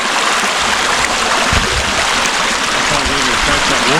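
A creek flowing steadily along a game trail in the Colville woods, a broad continuous rush of water heard up close, with faint low rumbles underneath.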